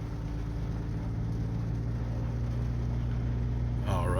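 2012 Subaru Impreza engine running steadily right after starting, a close, even hum with a strong low tone and a brief rise in pitch near the end.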